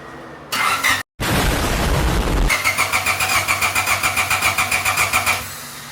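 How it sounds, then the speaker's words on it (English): A Honda Civic turbo engine cranks over to build oil pressure. A loud, close starter whine breaks off once, then settles into a steady, rhythmic chugging crank for several seconds before stopping. "let's go ahead and crank it to build some oil pressure and see"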